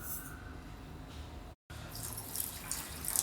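Half a cup of water poured onto jaggery in a pan while making ragi kesari, a faint close trickling gush that breaks off briefly, then returns brighter and splashier, with no talking.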